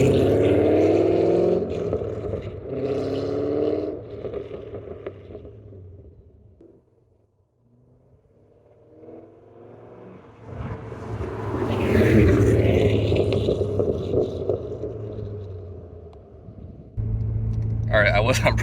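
A Corvette C5 engine rumbles closer, fades to near silence, then roars past again with a rising growl, heard from the roadside.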